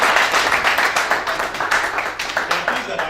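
A talk-show audience claps together in a dense, steady burst, close and lively, with some voices mixed in underneath.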